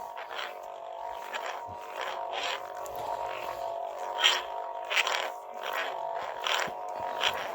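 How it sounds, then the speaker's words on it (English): A Saberforge Eco Defiant lightsaber, weathered baselit version, hums steadily with a layered electronic drone, with repeated swelling whooshes and bright crackling pulses rising over it at a moderate, close level. "Press the button. Ignition."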